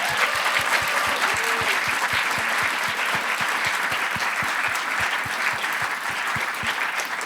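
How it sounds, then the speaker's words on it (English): Dense, sustained applause from a live audience for a panel, loud and steady throughout, with a faint regular low thump running underneath. "A round of applause to the panel."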